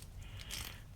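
Kobalt socket ratchet having its direction switch flipped, giving a few quick, faint mechanical clicks close by in a quiet setting.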